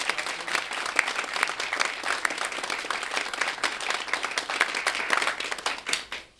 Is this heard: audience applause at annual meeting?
yes